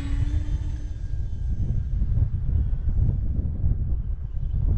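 A Bigfoot model airplane flies in strong wind, its electric motor a steady whirring drone that fades slightly as it climbs away, mixed with rough low gusts of wind buffeting the microphone.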